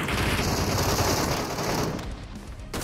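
Rapid automatic gunfire in the mobile shooter PUBG Metro Royale, a dense burst of shots rattling continuously before cutting off near the end.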